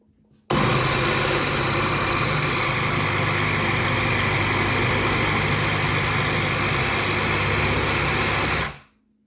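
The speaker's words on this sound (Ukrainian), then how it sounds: "Сир перемелю в блендері, щоб була гарна однорідна маса." A kitchen blender grinding cheese into a smooth mass runs as a loud, steady, high whirring motor for about eight seconds, starting abruptly and winding down at the end, close up with no voices.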